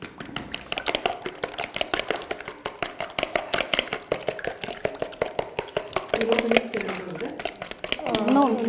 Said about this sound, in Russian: И взбиваем вилкой или венчиком.